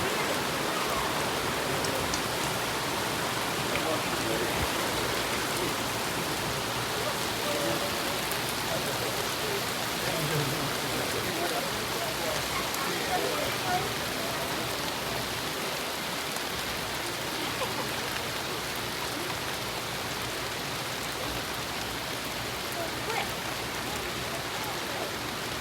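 Rain falls steadily during outdoor fishing, a continuous close hiss of drops patting on nearby surfaces that runs unbroken for the whole stretch, with no talk over it.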